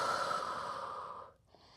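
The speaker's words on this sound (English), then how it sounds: "breathing deeply in through the nose and slowly out through the mouth" A deep, steady breath drawn in through the nose during a seated Pilates forward stretch, one long soft rush that fades near the end, close and alone without talk.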